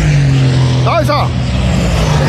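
An SCG race car sweeps past during an NLS race at the Nürburgring, its engine note rising and falling quickly in a single close pass over steady crowd and track noise.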